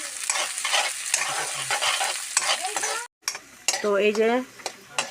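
Onions fry and are stirred in a pan, a busy sizzle with clinking utensil scrapes, cut by a momentary silence; a person speaks briefly near the end over the frying.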